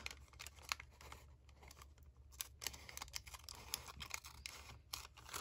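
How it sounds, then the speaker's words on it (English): Scissors snip across a top paper layer of a handmade junk journal, giving a series of quiet, close, irregular crisp cuts and scratchy paper rustles with no talking. "So then I'll just cut this across."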